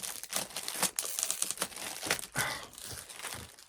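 Plastic security tag being ripped off a Blu-ray case, with a run of sharp crinkling, tearing and crunching bursts close up and no talking.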